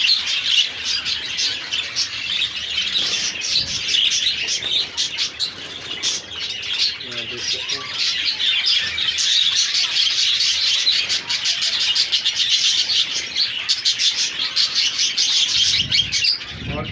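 Hagoromo crested budgies in a breeding cage, a dense, continuous flurry of chirps and squawks from many birds, loud and close throughout with occasional wing flutters.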